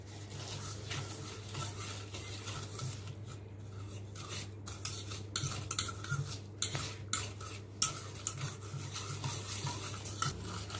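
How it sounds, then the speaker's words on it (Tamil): Wheat cake batter with lemon-curdled milk being stirred in a bowl, soft continuous scraping and sloshing with occasional utensil clicks against the side, close but quiet, under a steady low background hum. "இப்போ இத நல்லா mix பண்ணிக்கலாம்"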